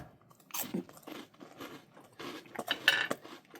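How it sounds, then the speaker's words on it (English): Bites into a crunchy cracker topped with cream cheese and fermented pollock roe give close, crisp crunches followed by softer chewing, repeated in quick bursts; no talking. "The cream cheese really adds to the flavor, and the cracker adds some crunchiness."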